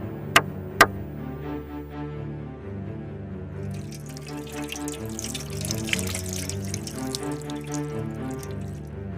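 Water poured into a basin for washing hands, a steady splashing trickle with a few sharp drips near the start, brightening and splashing more in the latter half, heard alone without talk.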